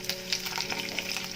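Green chilies, curry leaves and cumin seeds crackle and sizzle in hot oil for chapathi upma, a brief, fairly faint, steady frying hiss with small popping bursts.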